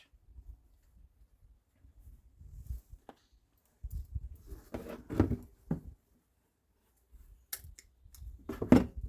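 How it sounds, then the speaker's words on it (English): Snippers crunch through a bird's wing bone, giving a few sharp close snaps and cracks amid quieter handling noises and short pauses, with no talking. "break it with the snippers, and then use the knife to cut through the flesh"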